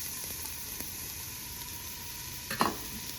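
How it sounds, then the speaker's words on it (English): Onions sautéing in olive oil in a pot, a steady soft sizzle and crackle running throughout, with a brief louder clink or stir near the end; close and even. "I've got my onions sauteing here"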